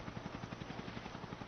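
A helicopter in a Walking Dead scene whirs with a rapid, steady rotor chop, a continuous pulsing beat at moderate distance.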